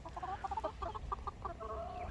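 Chickens cluck softly in a backyard coop, several short, irregular calls overlapping at a moderate distance over a low background rumble.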